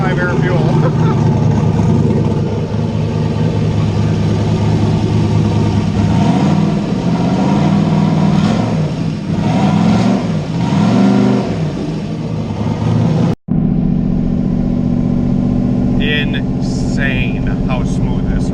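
A turbocharged big-cam V8 in a Chevstang with 1500cc injectors idles smoothly, a loud, steady, rumbling engine note that carries on throughout, with a brief dropout near the end and someone talking over it.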